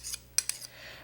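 Two spoons clink and scrape lightly against a bowl as guacamole is stirred, a few quick faint metallic taps in about a second, close and quiet.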